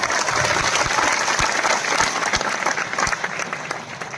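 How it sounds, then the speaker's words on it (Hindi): A kavi sammelan poetry gathering audience breaks into steady, dense applause, many hands clapping together at close range without pause. "तो एक बार तालियां उठाइए, जोरदार तालियां"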